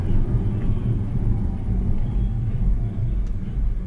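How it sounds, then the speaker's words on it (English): Interior of a self-driving electric car changing lanes and slowing to a stop in traffic, a steady low road rumble and tyre noise throughout, with no speech. "I'm going to click the turn signal and we're going to move over one lane completely on its own."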